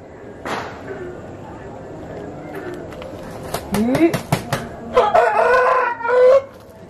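A rooster crows loudly near the end after some sharp clicks and clucking sounds, fairly close, with quiet background noise.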